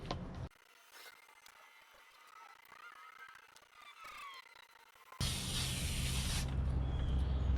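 A sprayer hisses against the outside of a freshly stripped concrete wall during an abandoned church rehab, starting as faint scraping and swelling into a loud, steady spray near the end.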